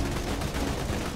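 Rapid gunfire in the video game Borderlands 2 crackles without a pause, a dense, loud stream of shots that fills the whole brief moment.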